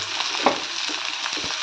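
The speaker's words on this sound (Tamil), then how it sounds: "வெங்காயம் இதிலே போட்டு நம்ம ஃப்ரை பண்ணிக்கலாம்" Finely chopped onions sizzle in hot oil in a pan, a steady bright frying hiss with a few soft stirring scrapes, close and continuous with no talking.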